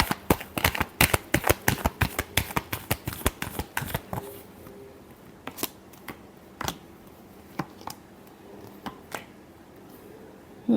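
Tarot cards being shuffled: a rapid run of crisp riffling snaps for about four seconds, then a few scattered slaps and flicks with quiet gaps between them, close and fairly soft.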